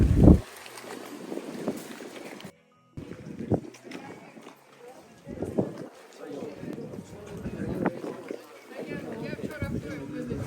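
Gusts of wind buffet the microphone outdoors in Austria in uneven rumbling bursts, with a brief dropout partway through and faint background sounds between gusts.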